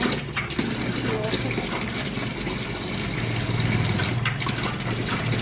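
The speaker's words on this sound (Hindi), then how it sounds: "वो ऊपर से टैंकी से पानी जो आता है वो ऐसे" Water from an overhead tank runs steadily from a bathroom tap, a continuous gushing flow with a low hum underneath, steady and fairly loud throughout.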